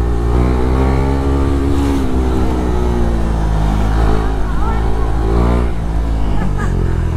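A vehicle's engine revs and pulls hard through a sustained acceleration with kids riding along, loud and close, the engine note climbing steadily with a few brief shifts, and faint voices beneath.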